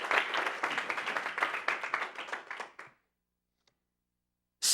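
A church congregation claps for the Lord during a bilingual healing workshop. The applause is moderate and steady for about three seconds, then stops abruptly into silence, broken by one faint tap before a loud burst returns at the very end.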